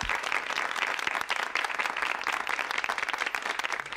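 A studio audience applauds to welcome a panelist, dense continuous clapping at close range throughout, steady and loud without voices.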